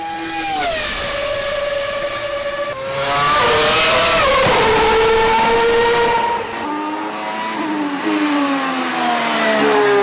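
A high-pitched Formula 1 car engine screams loudly and close, its pitch climbing and dropping sharply through repeated gear shifts.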